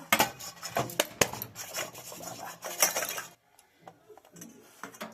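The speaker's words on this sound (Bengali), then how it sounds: "পিঠেগুলো এবার পিস কেটে নিয়েছি" A knife cutting a cooled pitha cake into pieces, with repeated short scraping and tapping strokes against a plate or board, close and clear, before a quieter stretch with scattered light clinks.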